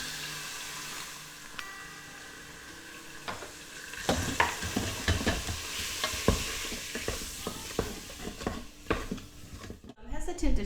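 Flour-dusted meat browning in an Instant Pot gives a steady sizzle that grows busier about a third of the way in, with repeated scraping stirs and clatter of the utensil against the pot, close and moderately loud.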